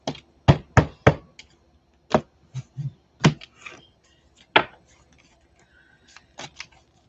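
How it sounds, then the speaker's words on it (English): A deck of tarot cards is shuffled and tapped, giving a series of sharp, close knocks in uneven clusters separated by short quiet gaps. "Let's shuffle a little more."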